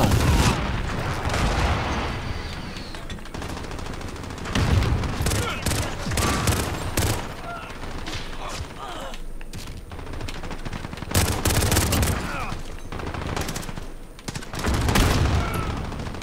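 Hectic Call of Duty Modern Warfare gunfire on the Shipment map: loud, rapid automatic bursts and single shots in clusters, with short lulls between volleys.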